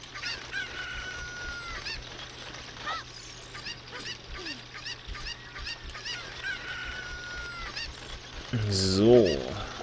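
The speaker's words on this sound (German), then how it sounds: "Und dann lassen wir das Huhn da los." Chicken clucks and crows come from the video game The Legend of Zelda: Ocarina of Time, repeated in short bursts across the stretch alongside other game sounds, with a louder rising call near the end.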